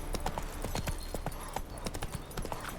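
Roach the horse trots in The Witcher 3, quick close hoof clip-clops landing in a steady irregular rhythm over faint background ambience.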